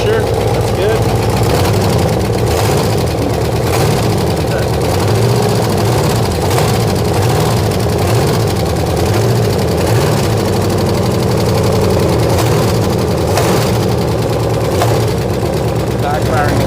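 A 348 Chevy engine in a gasser project car runs at a steady idle, a loud continuous low rumble with slight backfiring pulses, close up, while people talk over it throughout.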